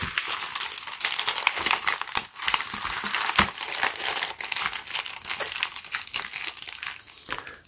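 Plastic packaging around a DisplayPort to DVI monitor cable crinkles and crackles as it is unwrapped, a close, continuous stream of bright rustling with sharper tearing snaps scattered throughout and no talking.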